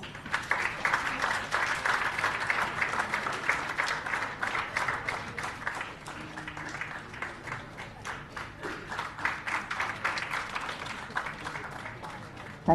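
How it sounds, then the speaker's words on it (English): An audience applauds at a ceremony marking Sardar Vallabhbhai Patel's 150th birth anniversary, sustained rhythmic clapping from many people lasting several seconds, fairly close and even. "Good round of applause."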